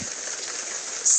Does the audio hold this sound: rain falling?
yes